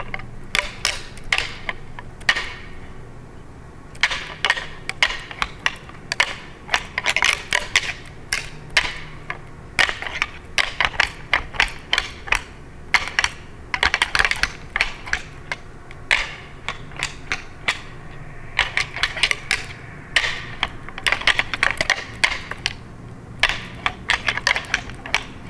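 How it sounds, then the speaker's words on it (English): Rattling antlers during a hunt make irregular bursts of sharp clicking and clattering, close and fairly loud, with short pauses between flurries throughout. "I'm going to do a rattling sequence here."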